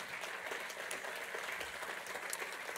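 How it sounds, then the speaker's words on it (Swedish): An audience at a Swedish municipal presentation applauds the arriving Lalandia CEO, a steady wash of clapping from a sizable crowd, moderately distant and fairly quiet, with no speech over it. "Applåd."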